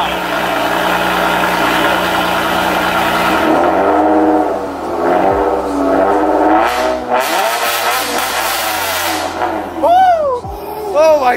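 A Honda Accord V6 with an RV6 PCD exhaust idles with a deep, loud drone, then revs in sharp rising blips that fall away, with excited voices reacting near the end.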